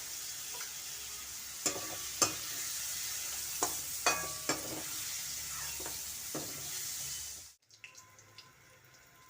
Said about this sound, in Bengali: বন্ধুরা, পটল ভাজা হয়ে গেছে, এখন পটল ভাজা তুলে নেব।